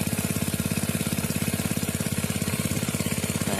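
A small engine-driven water pump feeding a garden sprinkler irrigation system through 2-inch PVC pipe chugs at close range, its rapid, even pulsing beat steady and loud from start to finish.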